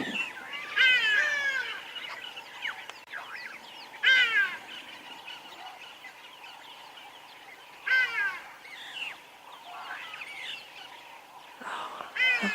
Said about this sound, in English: Have a listen to all of those birds as well.